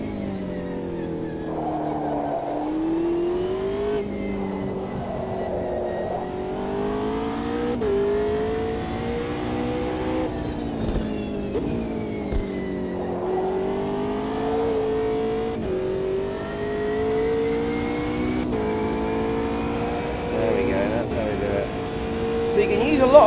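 Race car lapping the Indianapolis circuit in the Automobilista 2 racing game, with a steady engine tone that rises and falls through gear changes and revs across the whole stretch, while someone talks over it.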